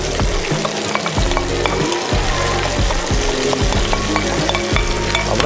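Onions fry loudly in hot oil with fennel seed, a dense, continuous crackling sizzle close up, with stirring strokes breaking through repeatedly.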